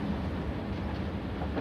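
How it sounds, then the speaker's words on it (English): A passenger train leaving a station at night, a constant, full-bodied rumble of wheels and carriages with no voices or pauses. "The train pulled out of the station, over the bridge and off into the night."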